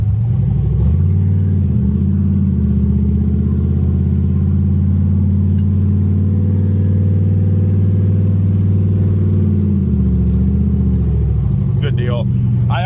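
A car engine tuned with ACES EFI idles cold and slightly high, a loud steady low rumble held close throughout before it drops near the end. Someone speaks over it.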